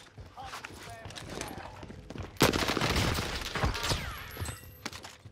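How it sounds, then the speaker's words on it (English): Gunfire in Call of Duty Warzone on Rebirth Island, MP7 among the weapons, with loud bursts and scattered shots over several seconds, the heaviest volley in the middle, mixed with game noise and voices. "Where am I getting shot from?"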